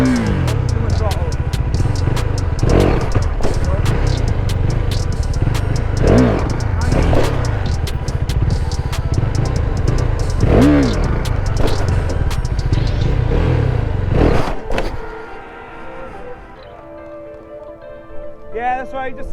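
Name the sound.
motorcycle engine revving with throttle during wheelie practice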